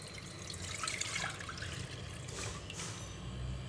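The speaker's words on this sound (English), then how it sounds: "Add in all the prawn broth in the pot." Prawn broth pouring into a cooking pot for a one-pot seafood soup, a steady watery splash and gush lasting a few seconds, close and fairly loud.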